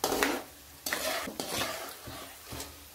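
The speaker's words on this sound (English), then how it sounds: "auntie is frying these groundnuts." Groundnuts sizzle in a pan while a utensil stirs and scrapes through them in several uneven strokes, close by and with no talking.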